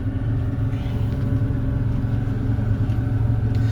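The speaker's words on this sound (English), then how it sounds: "We're gonna throttle it up." Loud, steady engine drone from a 2012 Easten 24 boat as the throttle opens, a dense low-pitched roar with a rising tone over several seconds, close and continuous, with no talk.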